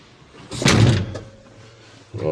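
The cab door of a Case 580SK backhoe bangs shut with one loud, solid thunk, followed by a quieter rattle and a second bump at the end.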